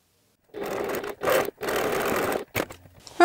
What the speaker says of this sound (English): So I'm just going to sew from the bottom up to that point here.